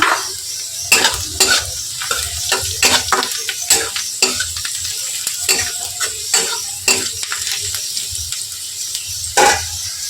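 Onions frying in a pan with turmeric powder added for okra posto, a steady close sizzle broken by repeated sharp scraping strokes of a spoon stirring against the pan.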